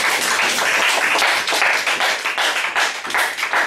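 A church congregation claps and applauds during a Sunday worship service, a dense, continuous wash of many hands with a loud, steady rhythm and no talking.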